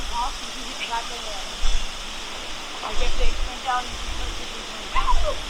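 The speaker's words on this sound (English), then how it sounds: "There it is, the waterfalls" Petersen Creek waterfall near Kamloops roars as a steady, broadband rush of falling water, fairly loud and continuous, with a few brief bumps and scattered faint sounds over the constant wash.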